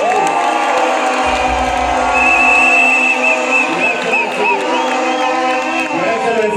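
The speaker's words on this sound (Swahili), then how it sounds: "Tumpigie makofi na huyo." Crowd at a political rally in Kiambu cheering and clapping, a loud sustained roar of voices and whistling with applause underneath, up close and continuous.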